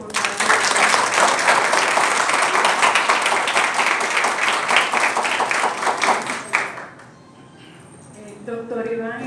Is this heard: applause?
yes